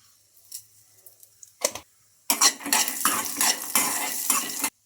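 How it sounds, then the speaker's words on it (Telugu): Peanuts fry and rattle in a kadai, scattered clicks at first, then a dense burst of sizzling and scraping stirring with the spatula knocking on the metal before it stops abruptly. "పల్లీలను కూడా బాగా ఫ్రై చేసుకోవాలి."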